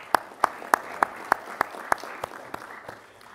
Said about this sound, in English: So a round of applause for yourselves, please.